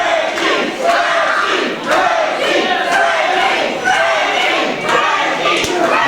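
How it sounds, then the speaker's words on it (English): A wrestling crowd at a heavyweight title tournament bout cheers steadily for one wrestler, a loud, dense roar of voices and shouts that swells and dips over several seconds, with occasional sharp thuds cutting through. "Crowd is cheering Frankie on."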